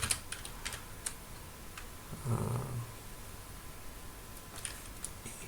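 Someone types a command on a computer keyboard, with scattered quiet key clicks in short clusters and a closing keystroke, close up in a quiet room with a soft low hum.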